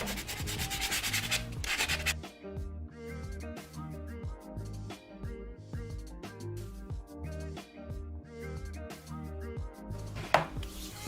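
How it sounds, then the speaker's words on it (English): Fingernails are buffed with a small nail buffer during a quick manicure, a close, steady back-and-forth rubbing that rasps in quick rhythmic strokes for the whole stretch with no talking. "now I'm just going to take my little buffer here and just buff"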